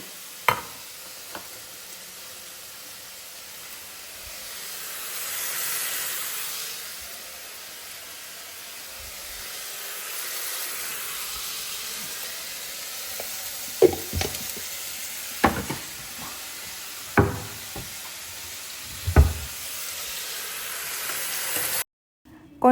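Tomatoes and onions sauté in a pan with salt, giving a steady broad sizzle and hiss. Sharp spoon-scraping and stirring knocks come in the second half.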